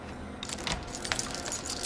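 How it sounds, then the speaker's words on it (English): A bunch of keys jangles in the video game Stray, a short, close metallic clinking that starts after a brief quiet moment and carries on in light, irregular rattles. "I guess if you have a set of keys, you can go anywhere"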